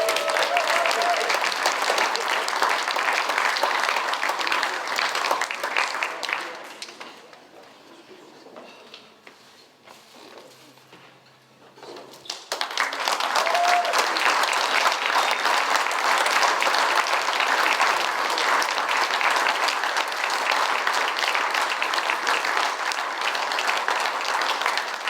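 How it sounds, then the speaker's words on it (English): An audience applauding at the awards ceremony of the Junior Tour of Wales 2019 cycling race; loud sustained clapping that fades to quiet for a few seconds midway, then swells again and continues steadily. "Round of applause, please."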